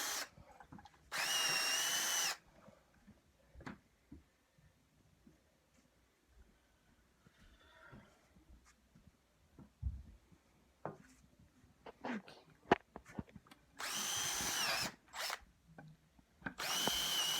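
A power drill drives screws into a launch tower in three separate bursts: a steady whirring run near the start and two more close together near the end. Soft handling noises and quiet pauses fall between the bursts.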